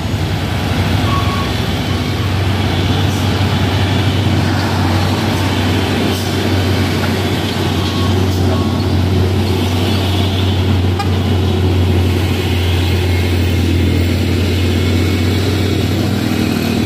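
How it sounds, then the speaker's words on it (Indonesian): A convoy of heavy palm oil tanker trucks rumbles loudly and continuously, a steady low drone of large vehicles moving close by, with no voices. "rombongan truk CPO"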